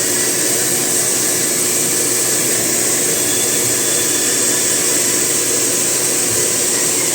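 A hair blow dryer runs at a hairstyling session, giving a loud, steady, unbroken rushing whir that holds close and constant for the whole stretch, with no voices.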